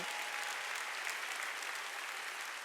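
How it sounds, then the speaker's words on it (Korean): A church congregation at a Korean Sunday worship service bursts into brief, dense applause, a continuous hiss of many hands clapping heard from a distance at a fairly low level. "빨리 박수, 빨리 박수라고."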